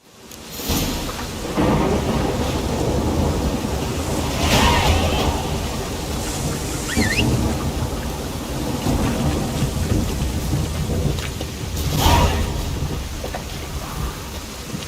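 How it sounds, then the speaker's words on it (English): A thunderstorm in The Witcher 3 video game: steady heavy rain hisses throughout while thunder rolls and cracks rise at intervals, loud and close, with no voices. "Storm, damn it."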